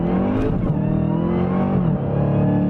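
A 2019 Dodge Challenger Hellcat Redeye with 797 horsepower, automatic transmission shifted by paddles in manual mode, roars loudly and continuously from inside as it drives, the engine note rising and dropping with gear changes.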